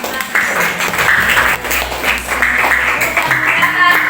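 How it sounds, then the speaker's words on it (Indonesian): Classroom applause at an Indonesian school positive-culture session, scattered clapping from a group filling the room steadily, with some voices mixed in. "Oke, beri aplaus untuk sebelah"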